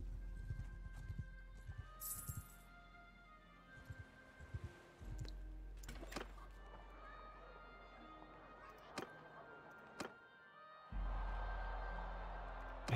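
Horse hooves clip-clop in the medieval battle game Mount & Blade 2: Bannerlord, with irregular hoofbeats, scattered game effects and occasional sharp impacts, moderately loud and untouched by speech.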